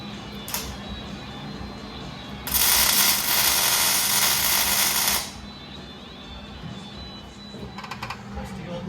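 A welder tack-welds a spring perch onto a Ford rear axle being swapped into a 1950 Fargo, giving off a single loud, steady crackling hiss of about three seconds over a background hum.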